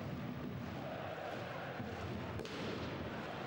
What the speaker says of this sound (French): Encore des pétards dans le COP stéphanois.